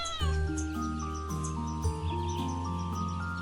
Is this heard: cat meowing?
yes